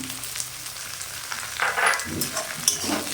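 Parshe fish curry with brinjal and potato fries and sizzles steadily in a pan, with a spoon scraping and stirring through it in a few clustered strokes, close and moderately loud, no voices.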